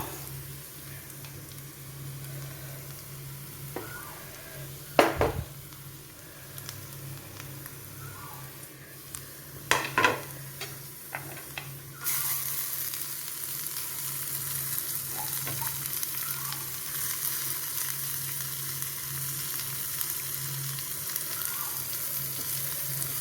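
Chopped vegetables for a Kerala egg thoran frying in plenty of oil in a pan, a steady sizzle with a few sharp clatters of stirring, growing louder after the vegetables go in; no talk.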